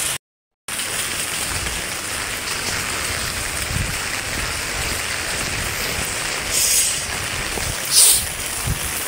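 Steady rain falling outdoors, a continuous dense patter and hiss of drops with a couple of brief brighter spikes, close and moderately loud, after a short silence at the start.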